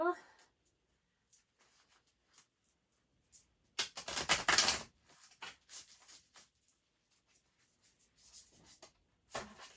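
A burst of riffling card shuffling, crisp and close, rising briefly then stopping, with scattered soft taps and quiet handling noises around it.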